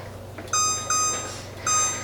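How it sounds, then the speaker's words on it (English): A kitchen timer emits short electronic beeps while being set for baking cornbread dressing, two sharp bursts of bright tones separated by a pause, close and clear over quiet room noise. "I'll put my timer on 20 minutes"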